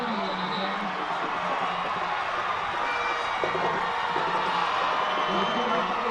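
Crowd noise from the stands at a 2011 high school football game between the Lakeland Dreadnaughts and Kathleen Red Devils, a steady roar of cheering and whoops under continuous announcer commentary.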